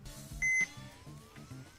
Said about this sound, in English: I like the beeps on this one